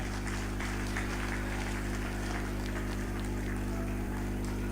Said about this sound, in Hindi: एक बार जोरदार तालियों के साथ मदन जी राठौर का अभिनंदन करें और स्वागत करें